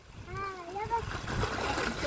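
A voice, then water splashing and sloshing nearby from a hose pipe on a farm, close and fairly loud for a couple of seconds.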